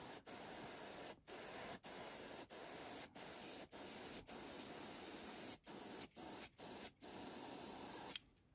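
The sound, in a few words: airbrush spraying paint on a custom jerkbait lure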